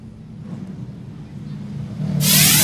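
Late model race cars at Seekonk Speedway roar at a steady distance, with engine rumble building and swelling louder toward the end as the field comes off a corner, a commentator talking over it.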